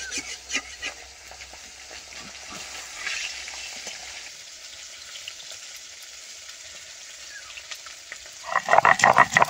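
Pieces of katla fish fry in oil on a clay stove, a soft continuous sizzle with occasional stirring clinks, growing louder and crackling sharply near the end.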